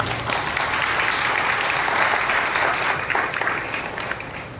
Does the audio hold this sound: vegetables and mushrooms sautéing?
no